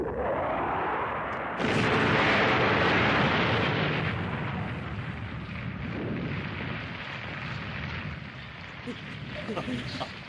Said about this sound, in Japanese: もうすぐ爆発するぞ。